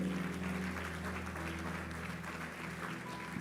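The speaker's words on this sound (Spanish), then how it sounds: "dale un fuerte aplauso al Señor Jesús" Congregation applause for the Lord Jesus during a church service, a steady dense clapping wash with sustained music tones humming underneath, moderate and even throughout.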